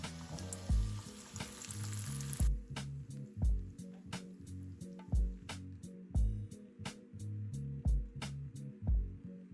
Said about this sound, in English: I'll fry the kebab while the chutney gets done.